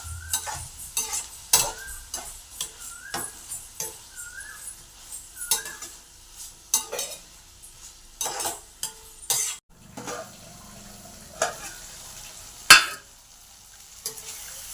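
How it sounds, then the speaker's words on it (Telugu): Vegetables cooking in a pan with coriander, cumin and turmeric are mixed with a utensil: rhythmic scraping strokes and occasional sharp clinks against the pan over a soft, steady sizzle, close and moderately loud. "ఇట్లా కలుపుకోవాలి."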